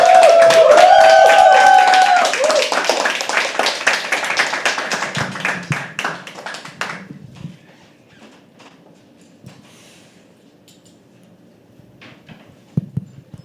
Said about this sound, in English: So I request all of you guys to start clapping.